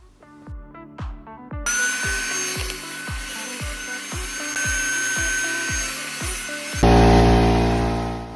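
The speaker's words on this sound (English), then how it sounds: "measure those to length, and then cut them on the sled to fit the gap." Scrap wood offcuts being cut on a saw sled in a small workshop: a rapid run of rhythmic hand-saw strokes, then a louder sustained power saw cut that ends abruptly into a brief different whine, close and loud, no talk.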